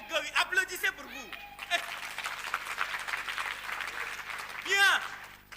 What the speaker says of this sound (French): Applaudissez pour vous.